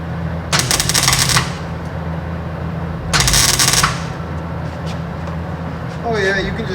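Welder crackling in a shop while a solid camera handle is built from junk metal: two loud bursts of harsh, sizzling arc noise over a steady low electrical hum, with a brief clank near the end.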